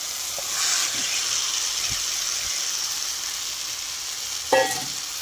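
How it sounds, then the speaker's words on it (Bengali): Marinated chicken going into frying masala for a chicken curry hisses with a loud, steady sizzle, broken by a few utensil knocks and a sharper clatter near the end; no one speaks. "এবার আমি মাখানো চিকেনগুলো দিয়ে দেব।"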